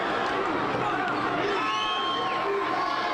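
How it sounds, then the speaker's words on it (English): Eagles fans celebrating the Super Bowl win in the street in Philadelphia's Mayfair section, a steady roar of cheering with scattered whoops and shouts rising from the crowd, while a voice talks over it. "A very happy, celebratory crowd"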